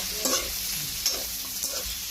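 Buttered garlic shrimp sizzling in a pan as a utensil stirs it in a few quick scrapes over a constant close fry, no voices.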